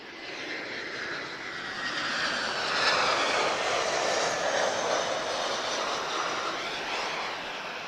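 Airliner jet engines roar at Lisbon Airport, a broad, steady rushing drone that swells slightly mid-way and holds at moderate distance, with no talk over it.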